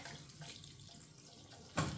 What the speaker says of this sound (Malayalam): വെള്ളം ആഡ് ചെയ്ത് കൊടുക്കാവേ